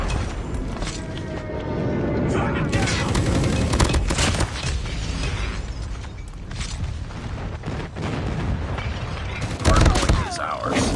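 Call of Duty: Mobile hardpoint match: dense rapid gunfire and repeated explosions fill the scene, with heavy booms toward the end and a game announcer voice speaking over the combat.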